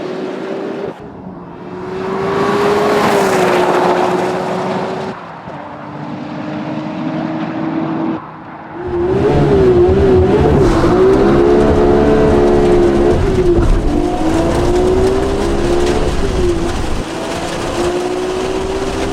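A modified Nissan GT-R with drop-in camshafts, an upgraded intercooler and plenum, a SARD and HKS fuel system and a Power FC D-Jetro, producing 365 kW at the wheels, accelerates hard down a runway. The engine drones loudly through rising pitch sweeps and gear shifts.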